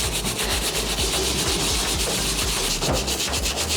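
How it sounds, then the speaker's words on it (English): Loud, close scrubbing of a sneaker toe cap with a wire bristle brush dipped in cleaning solution, a dense continuous rasping with quick repeated strokes and no speech. "we're gonna use a wire tip bristle brush. So I'm gonna dip this in a solution and just get the scrubbing"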